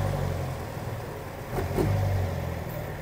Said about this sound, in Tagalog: Dito dumadaan karamihan ng mga sasakyan.